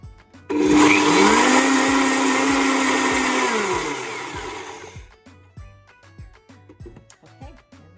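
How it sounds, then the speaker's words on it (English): A kitchen blender whirs loudly as it purées green coriander chutney with yogurt or sour cream, starting abruptly, holding a strong whine for about four seconds and winding down, followed by scattered light clinks and taps. "add a tablespoon of yogurt or sour cream to this mixture and blend it"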